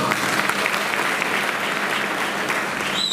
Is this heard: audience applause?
yes